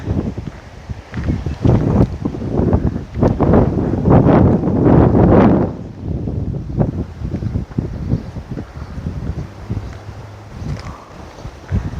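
Strong wind at the Vorotnavank monastery in Armenia roars and buffets the microphone in loud, uneven gusts that rise and fall throughout, with no voices.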